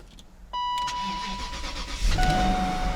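A Range Rover's starter engages with a sudden whirring crank, followed by a warning tone and a second surge of engine noise, heard close from inside the car.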